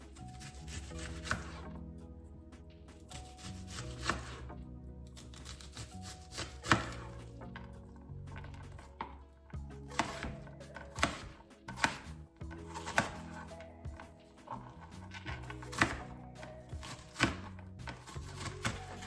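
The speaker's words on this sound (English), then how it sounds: "let's start out by cutting up this onion" A knife chops an onion on a cutting board, a run of crisp, irregular taps that come in bursts with short pauses, close up over quiet background music and no talk.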